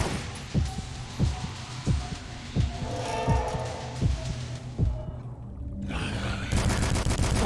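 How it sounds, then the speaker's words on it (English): Rapid gunfire from the Fuller Auto gun in a video game, a steady series of punchy, evenly spaced shots over a constant background drone, loud and close, ending in a noisier wash. "Oh, fast firing."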